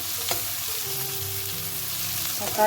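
Food frying in a pan with tomatoes just added, a steady close sizzle with a couple of stirring scrapes and a brief clatter at the end.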